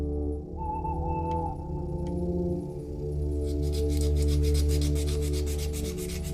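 A fingernail file rubs back and forth against a small plastic part of a model 1946 Dodge Power Wagon wrecker, making a soft, rapid scratchy rasping that turns into quick repeated strokes, quiet and close.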